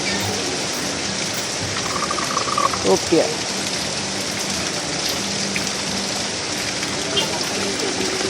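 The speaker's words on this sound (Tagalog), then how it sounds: "Ayan, umulan na." Steady heavy rain pours down during a typhoon, a dense continuous wash close by, with a brief voice speaking partway through.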